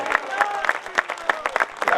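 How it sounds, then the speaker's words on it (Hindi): An audience at a Hindi poetry recital claps in a thin, evenly spaced rhythm, about four claps a second. The applause sounds sparse and moderately loud, and a voice is faintly present underneath. "जय श्री राम के नारे पे इतनी कमजोर तालियां।"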